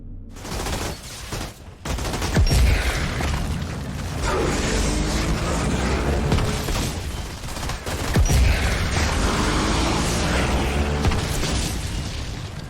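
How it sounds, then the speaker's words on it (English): Bursts of gunfire and booming explosions from the Outriders video game build into a dense, loud barrage, with thumping low-end blasts around two and eight seconds and no speech. "If killed while still afflicted by the skill, the enemy will explode, dealing 246 damage with a large radius."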